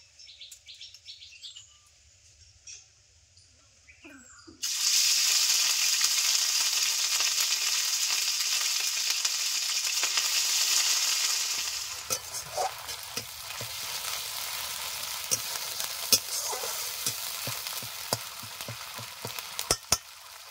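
Ginger, garlic and onion paste drops into hot mustard oil with dried chilli and cumin, bursting into a loud, steady hiss that later settles into softer sizzling with scraping stirs; birds chirp faintly in the background.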